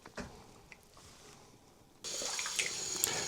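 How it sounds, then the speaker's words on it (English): Tap water starts running to rinse developed photographic film after a Nikon FM shoot. A few faint drips and handling knocks come first, then the flow switches on into a steady, bright rush close by. "now I'm going to wash the film"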